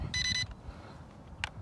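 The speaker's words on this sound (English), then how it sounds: "I don't know why the remote is beeping" A Tomzon D28 camera drone's remote controller gives a short electronic beep, followed by a briefer second chirp over low background rumble.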